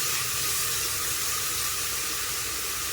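Carrot, beans and other vegetables for veg biryani sauté in a pan, giving a loud, even, continuous hiss of frying that stays steady and close throughout, with no talk.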